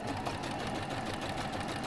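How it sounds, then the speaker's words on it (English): A sewing machine runs steadily and continuously at moderate volume, its even mechanical whir and rapid stitching hum filling the background with no pauses. "I hear his sewing machine going"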